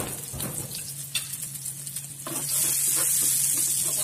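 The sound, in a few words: sautéing garlic and shallots in hot oil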